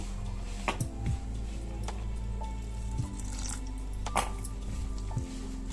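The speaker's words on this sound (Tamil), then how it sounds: "கொஞ்சமா தண்ணி விட்டு பிசைஞ்சு எடுத்துக்குவோம்" Soft, wet squishing and occasional clicks as spicy bonda dough is pressed and worked by hand with a little water, fairly quiet and irregular, with no talking.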